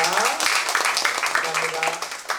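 Worshippers at an opening service for hospice volunteer training give a loud, sustained round of applause in praise. Bright, continuous clapping fills the room, with voices and a sung tone running beneath it.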